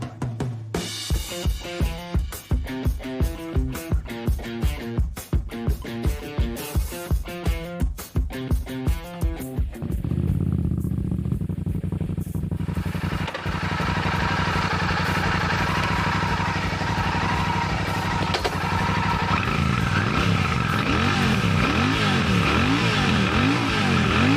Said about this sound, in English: I'm going to ride in the city now and also on the highway.